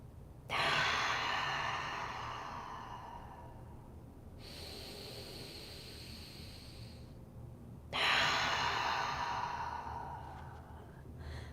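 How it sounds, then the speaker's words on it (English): Cleansing breaths during yoga practice, drawn in through the nose and released out through the mouth: two long, airy exhalations, each fading gradually, separated by a quieter inhale, close and clear with no talking. "I'm practicing cleansing breaths, in through the nose, out through the mouth."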